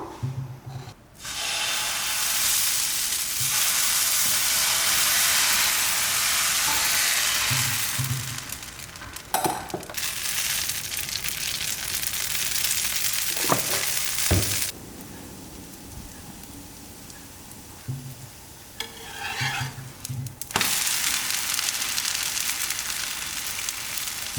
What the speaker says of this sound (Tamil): இப்போ எப்படி தோசை ஊற்றலான்னு பார்ப்போம்.